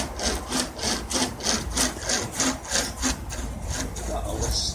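A hand-pulled rope chainsaw cuts through wood in steady back-and-forth strokes, about ten even pulls with a rasping bite on each stroke, close and loud with no talking.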